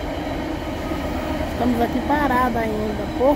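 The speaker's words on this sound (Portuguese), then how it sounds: "esse trem aqui passando" A train passing on the way to Rio de Janeiro, heard as a steady low rumble of rolling cars while someone talks over it.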